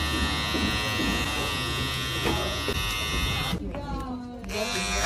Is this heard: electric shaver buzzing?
yes